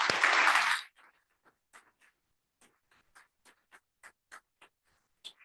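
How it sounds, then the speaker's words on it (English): Brief burst of audience applause for a speaker at a talk on laughter, lasting under a second, followed by a few scattered faint individual claps that trail off into near silence. "We'll give a round of applause for Danielle."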